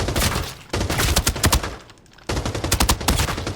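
Assault rifle gunfire in the video game Arena Breakout: two long, loud, rapid automatic bursts of closely spaced shots, separated by a brief lull, with no talking.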